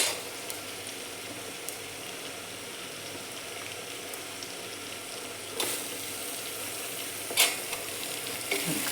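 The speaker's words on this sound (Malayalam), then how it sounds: "തക്കാളി ഇട്ട് കൊടുക്കാം." Tomatoes sizzle steadily in a hot pan with green chillies for a chicken curry, a constant frying hiss broken by a few sharp stirring scrapes near the end.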